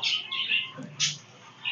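Imported Kalshira teddy pigeons in a loft give a few short, bright squawking calls at close range, with brief pauses between them and no talking.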